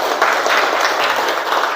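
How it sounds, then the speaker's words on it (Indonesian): Classroom applause from a group of students, a dense, steady wash of clapping that fills the whole stretch at an even level with no clear pauses. "Tepuk tangan dulu dong untuk kita semuanya."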